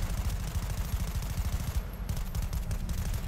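Submachine gun firing in Cyberpunk 2077, a dense, continuous burst of rapid low thumping shots that keeps going for several seconds with no talk over it.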